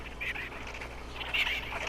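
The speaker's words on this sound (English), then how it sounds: "Yes, yes, run away, you noisy birds." Dodo birds in the video game Ark squawk with faint, duck-like quacking calls, two short bursts over a low steady background.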